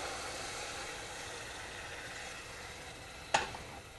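A steady broadband hiss of syrup sizzling in a hot pan for halvah, with a brief sharp clink near the end.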